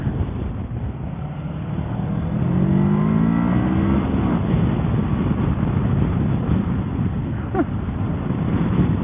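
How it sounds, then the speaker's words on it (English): A 2022 Kawasaki Versys 650 motorcycle pulls hard at full throttle in second gear, its engine note climbing steadily. Heavy wind rush runs underneath throughout. "in second gear and just full throttling it, it doesn't want to wheelie or anything"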